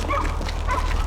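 A dog gives a short yip or bark over a low background hum.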